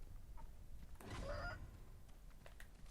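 A single short clucking squawk from a chicken in the video game Sekiro: Shadows Die Twice, faint and brief, over a quiet low background hum.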